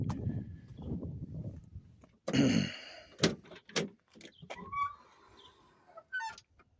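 Door of a 1958 Chevrolet Impala handled up close, with a creak followed by a couple of sharp thuds and clunks amid quiet rustling and movement, then softer scattered knocks.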